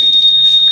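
A Honda Vario 160 motorcycle's anti-theft alarm gives off a loud, steady, piercing electronic tone that holds unbroken at close range, with no voices.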